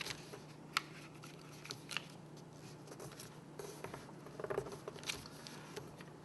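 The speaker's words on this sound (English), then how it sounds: "You're going to fold this top edge down to this edge." Sheets of origami paper folded and creased for an octagonal base, soft close rustles with a few sharper crinkles and taps over faint room hum.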